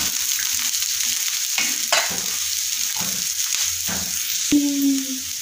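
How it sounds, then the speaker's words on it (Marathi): Grated coconut and garlic sautéed in a pan, a steady close sizzle with a few scraping stirs of a spatula and a brief metallic clink near the end. "आता यामध्ये आपण खोबरं घालूया। खोबरंही आपल्याला हे परतून घ्यायचं आहे।"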